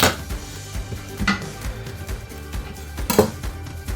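A knife blade pressed down on a garlic clove on a chopping board gives two sharp cracks, a couple of seconds apart, over faint kitchen clatter.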